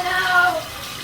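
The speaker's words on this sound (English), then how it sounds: "I was downstairs turning the water on at this time." Water gushes from a bathtub faucet with a steady rushing flow, louder at first and then settling to a softer, even stream.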